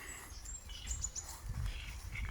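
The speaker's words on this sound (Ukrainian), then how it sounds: "Пташки співають" Small birds chirp and twitter outdoors by a river in spring, with several short high calls scattered over low wind rumble at moderate distance.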